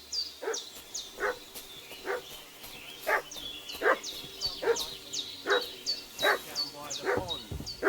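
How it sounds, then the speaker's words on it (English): A dog barks repeatedly in Kingdom Come: Deliverance II, a steady run of sharp, evenly spaced barks fairly close, over a low ambient game backdrop with no talk. "What's that dog making such a fuss about?"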